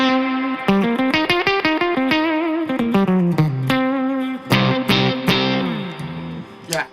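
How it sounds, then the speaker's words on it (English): Electric guitar played through a Coriolis Effects Face Deluxe, a silicon fuzz face style pedal, giving a thick distorted tone as a quick run of picked notes and chords rings out loud and close, ending on sustained chords. "It's kind of my favorite fuzz sound on the silicon side."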